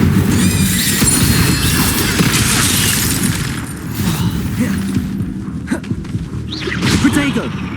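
Spell combat in Hogwarts Legacy during a spider boss fight, with the Incendio fire spell: dense, loud bursts and whooshing blasts with crashing impacts fill the scene, overlapping shouted voices and constant battle noise.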